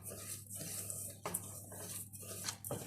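A spoon scrapes and stirs caramel in a pot in steady repeated strokes, close and clattery, with soft metallic knocks against the pot's sides and no voices.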